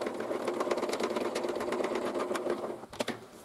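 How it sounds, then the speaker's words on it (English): Hand-cranking the blade height on an unplugged DeWalt DW745 table saw makes a quick, steady ticking whir of gears for several seconds, then slows into a few separate clicks at the end. "I'm just going to wind the blade up now."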